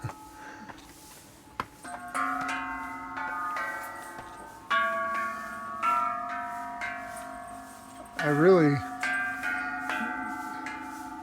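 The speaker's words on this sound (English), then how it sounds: "I don't think we're going to want to ding bells all the way up there" Temple bells at Phanom Sawai in Surin, Thailand, struck with a piece of wood, ringing one after another in separate metallic dings with long resonant tails and a wavering hum after one strike, moderately close.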